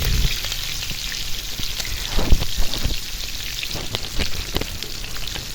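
Chicken pieces frying in a pan, a steady close crackling sizzle with scattered louder pops and spatters, no voices over it.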